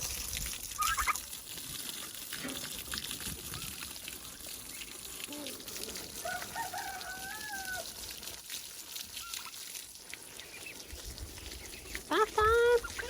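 Scattered clucks and short calls from turkeys bathing in water, amid water splashing and background noise on a homestead, with a voice speaking now and then.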